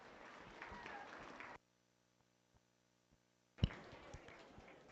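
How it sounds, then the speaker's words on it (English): Spectators at a 4-H market beef show at the Elbert County Fair applaud in scattered, moderately distant clapping that stops abruptly into near silence, then resumes with a sharp nearby knock. "Give them a nice round of applause as they head back to the barn."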